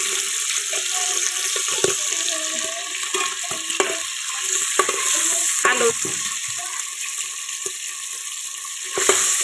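Goat fat seasoned with turmeric and salt frying in a little oil in a pan, a steady sizzle with stirring scrapes and clatters throughout, fairly close and without any talk.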